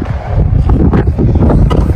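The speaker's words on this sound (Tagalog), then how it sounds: "Ang lakas ng hangin." Strong wind buffets the microphone outdoors in a snowy setting, a loud, continuous rumbling gust noise with irregular surges throughout.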